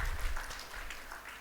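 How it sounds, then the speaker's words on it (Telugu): A church congregation claps in praise during a Telugu sermon, a soft, dense patter of many hands heard from a distance, faint and continuous throughout. "నమ్మితే ఒకసారి చప్పట్లు కొట్టి దేవుని స్తుతించండి"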